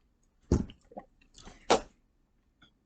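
A person drinks leftover juice and water, with a few close, quiet gulps and wet swallowing sounds spaced out over a couple of seconds in an otherwise silent room.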